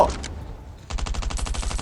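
Rapid automatic gunfire in the survival shooter Last Island of Survival: a short burst, a brief lull, then a steady string of evenly spaced, loud shots.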